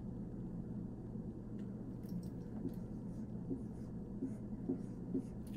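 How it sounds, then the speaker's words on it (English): Pencil scratching out spelling words on paper during a classroom spelling lesson, a soft continuous scribble of short strokes over a low steady room hum. "Write your spellings for sold."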